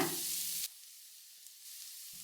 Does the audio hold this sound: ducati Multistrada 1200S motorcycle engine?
no